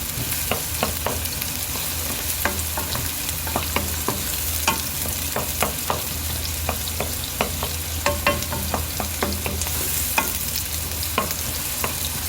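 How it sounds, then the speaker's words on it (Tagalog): Chicken sautéing in a pan for chicken pastil, cooked toward golden brown: a steady close sizzle runs throughout, broken by repeated clicks and scrapes of a utensil stirring the pieces. "Ayan na, igisa natin ito ngayon."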